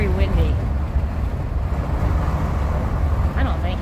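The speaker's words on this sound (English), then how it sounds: "It's snowing horizontally and very, very windy." Strong wind gusts during horizontal snow batter the microphone with a steady, loud low roar and rumble that runs throughout, with brief faint voices near the start and end.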